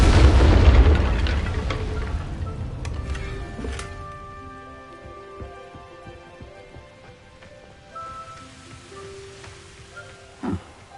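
A burst of fire from the Incendio spell in Hogwarts Legacy erupts loudly at the start, a roaring crackle that fades into a quieter magical shimmer of tones, with a sharp pop near the end.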